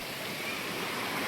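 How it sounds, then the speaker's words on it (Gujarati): Water pours steadily at the Jatashankar waterfall near the Mahadev temple in Junagadh, running low on water, giving a constant, even rushing hiss close by with no talking. "જટાશંકર મહાદેવ મંદિર જો આ જટાશંકર ધોધ પડે છે"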